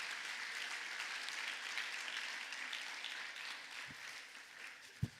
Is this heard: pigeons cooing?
no